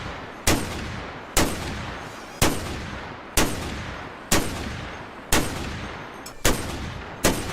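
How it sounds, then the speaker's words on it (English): Blank .50 caliber crimped rounds firing in steady succession, eight loud sharp reports spaced about a second apart, each trailing off into a short rumbling echo, with no voices. "Those are blanks. He's firing crimped rounds."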